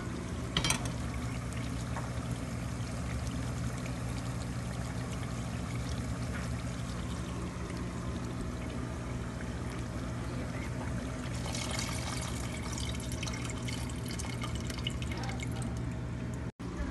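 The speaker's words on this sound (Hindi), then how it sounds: "अब ये पानी इसमें ऐड करूंगी मैं" Soaked tamarind water is poured into a cooking pot, giving a steady trickle and dripping that runs for many seconds over a constant low kitchen hum, with a brief louder splash near the start and another burst later on.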